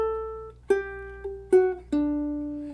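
Solo ukulele playing four plucked notes in a slow melody, each ringing briefly before being cut short as the fingers jump strings, close and clear with no talking.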